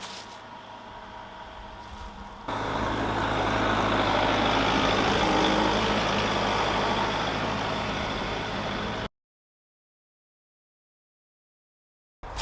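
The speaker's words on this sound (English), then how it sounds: "I'm just going to drive the tractor straight through and start dumping the dirt" A tractor engine roars loudly as it drives in and dumps a load of dirt in a garden, a steady heavy drone that rises, holds, then cuts off into silence.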